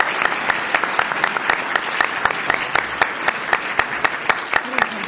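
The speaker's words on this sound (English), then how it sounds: "I want to make sure we give them a round of applause." Audience applause for a panel at a packaging-method myth-busting session, a steady round of many hands clapping with distinct sharp claps standing out, moderately loud and continuous throughout.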